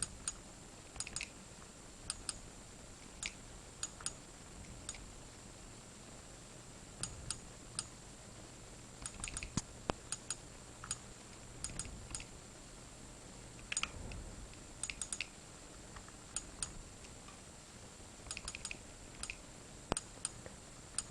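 Someone types a game name on a computer keyboard, faint scattered key clicks in short uneven bursts over a steady hiss, with no talking.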